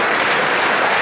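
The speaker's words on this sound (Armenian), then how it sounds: "Բարձր ծափարեք, խնդրում եմ" Loud, dense, steady audience applause in a television club show studio, filling the whole moment without pause.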